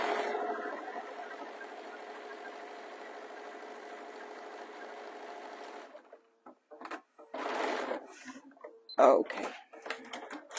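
A home sewing machine runs a straight stitch down the sides of a cosy neck warmer with pom pom trims, a steady close mechanical hum for about six seconds before it stops and someone speaks.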